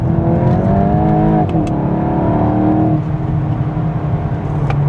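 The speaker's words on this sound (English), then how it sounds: "on rough asphalt like this, all you hear is that tire roll" A 2026 VW Golf 8.5 GTI driving on rough asphalt, its tire roll filling the cabin as a loud, steady low rumble with an engine hum beneath, continuous for about five seconds with no talking.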